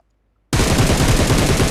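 Loud automatic gunfire from the Barrel gun in a video game bursts in abruptly after half a second of silence, then continues as a rapid, steady, unbroken volley to the end.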